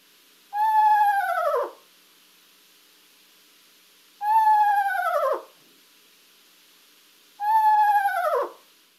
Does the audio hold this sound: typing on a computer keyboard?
no